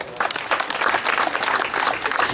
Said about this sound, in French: Et nous pouvons les applaudir.